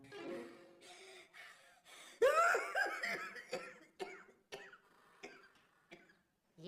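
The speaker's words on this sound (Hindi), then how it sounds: "ये खांसी आपको कब से है?" A man coughs and splutters during a comic doctor's examination scene in a Pakistani TV drama, with a cluster of harsh coughs and breathy gasps mixed among short vocal sounds and speech, fairly close and moderately loud.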